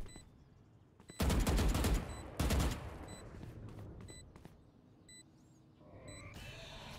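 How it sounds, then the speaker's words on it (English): Gunfire from a gunfight in the video game Free Fire: two loud bursts of rapid shots close together, then scattered single cracks and lighter pops among small chimes. "Reese is in the gunfight with Arena"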